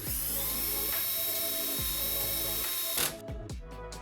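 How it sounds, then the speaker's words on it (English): Power drill whirring as it drives long screws into an IKEA PAX wardrobe frame, a steady close mechanical whine that stops abruptly near the end, followed by a few short clicks and clatters. "I'm going to use my power drill for this just because it's faster"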